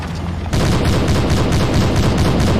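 Sustained gunfire in the World War II shooter Hidden & Dangerous II at an airport in North Africa: after a brief quieter lead-in, a dense, rapid burst of automatic shots erupts and continues without pause, loud and close.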